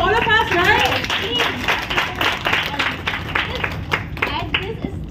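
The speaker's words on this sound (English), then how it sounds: "it's like clap for all of us, right?" An audience claps at a group meet-up party in Noida, scattered rhythmic hand claps mixed with lively talk and crowd noise, the claps irregular and moderately loud under the voices.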